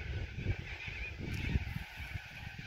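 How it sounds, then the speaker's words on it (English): Cockatoos calling noisily at a campsite, harsh honking squawks repeating several times over a couple of seconds, at moderate distance amid outdoor background. "it's a bit noisy over there. Oh, the cockatoos."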